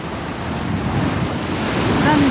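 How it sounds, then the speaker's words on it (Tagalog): Ocean waves wash onto Cijin beach at sunset, a constant close surf rush mixed with heavy wind buffeting against the microphone. "May alon-alon pa."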